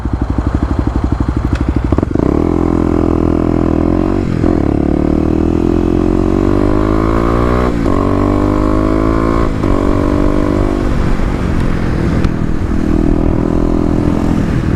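A 2018 Kawasaki KLX250 with stage 1 mods and a Mega Bomb exhaust rides continuously and loudly, its engine note rising and falling through repeated gear changes and revs.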